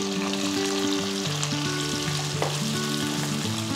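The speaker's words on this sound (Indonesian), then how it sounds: "Setelah itu kita masukin cumi asin." Salted squid frying in hot oil sizzles continuously and fairly loudly, with occasional stirring sounds, under steady background music and no talk.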